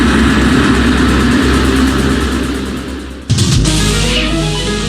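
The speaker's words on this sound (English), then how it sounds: "increases the thrust of his engines and accelerates down the airstrip" Boeing 747 jet engines spooling up to full thrust as the airliner accelerates down the runway, a loud continuous roar that swells with a sudden surge near the end.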